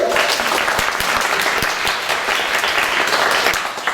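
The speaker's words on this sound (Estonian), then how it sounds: "suur aplaus veel kord Sedrikule" An audience at a choir concert claps warmly for a young performer, a dense and steady round of applause with sharper individual claps that continues evenly throughout.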